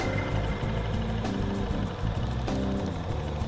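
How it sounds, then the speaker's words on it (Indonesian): An engine runs steadily during a test of Amos Metal Coat liquid oil additive, giving a continuous low mechanical drone with a faint rhythmic pulse, moderately loud with no one speaking. "Mesin saya nyalakan di sini."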